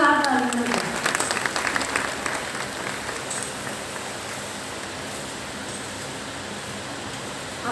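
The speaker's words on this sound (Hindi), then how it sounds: "जोरदार तालियां बजाएं।" An audience at a church women's fellowship seminar claps loudly at first, a dense burst of applause that thins into a softer, steady patter as it carries on, with voices speaking underneath.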